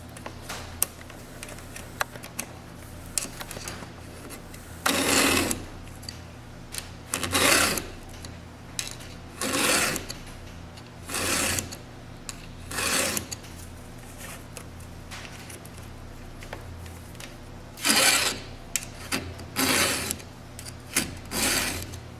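A hand file scrapes a chainsaw chain in repeated rasping strokes, each lasting about a second, with irregular pauses between sets, close and moderately loud over a low background hum.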